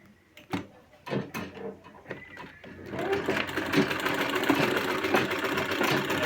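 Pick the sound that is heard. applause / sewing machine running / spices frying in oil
sewing machine running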